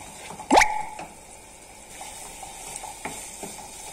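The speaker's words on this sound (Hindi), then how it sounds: "अब इस तड़के में हम दो चम्मच फ्रेश क्रीम भी ऐड करेंगे, इसको भी हम दो तीन मिनट के लिए भून लेंगे।" Fresh cream sizzling in a tadka for dhaba-style palak paneer, with a sharp clank of spoon on pan, then a low steady frying hiss and a few soft stirring taps.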